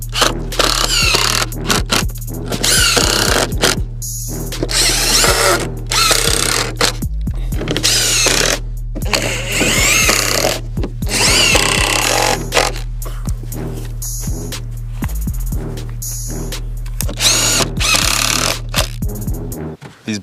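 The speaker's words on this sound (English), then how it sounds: "But I'm just going to throw some screws in there." Power drill driving screws into a wooden pallet compost bin, a series of loud close bursts of whirring separated by short pauses, with knocks against the wood.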